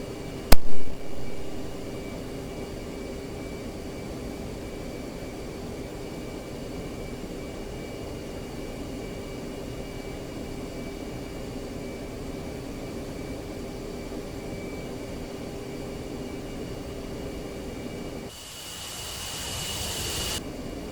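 In the DCS flight simulator, an F-15C taxis toward the runway with a steady, droning jet engine hum. A brief click opens the sound, and a louder burst of rushing noise rises near the end.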